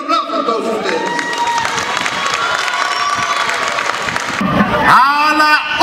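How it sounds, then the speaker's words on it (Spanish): A large crowd at a municipal dome handover in a neighborhood applauds and cheers loudly, with children shouting and whistles over continuous clapping that swells toward the end, when a voice rises above it. "Un aplauso a todos ustedes."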